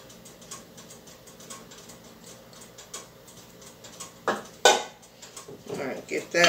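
Seasonings are stirred into a zucchini kofta mixture in a bowl, giving soft scraping and clinking that turns into louder, sharper knocks and clatters near the end.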